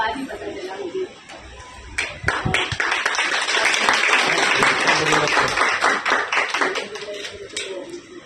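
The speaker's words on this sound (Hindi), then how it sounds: "तालियां जोरदार बजनी चाहिए।" Audience applause at a Hindi poetry gathering and book launch in Delhi: dense, sustained clapping swells after the first two seconds and holds loud and steady before thinning toward the end, with a voice faintly present underneath.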